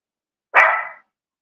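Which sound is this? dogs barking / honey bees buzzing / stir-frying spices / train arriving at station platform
dogs barking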